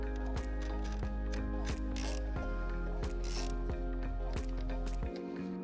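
Ratchet re-securing a fastener over a ring terminal post during trailer wiring on a 2021-2025 Hyundai Elantra, a close, steady run of rapid clicking strokes that stops near the end, with no talk.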